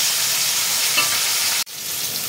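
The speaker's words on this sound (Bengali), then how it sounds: "এই পাঁচটা ভাজলেই হয়ে যাবে" Pieces of rohu fish sizzling in hot oil give a dense, even crackling hiss. A sharp click breaks it off for a moment before the frying noise resumes.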